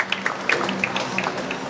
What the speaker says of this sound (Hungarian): Ez megérdemel szerintem egy tapsot, egy támogató tapsot.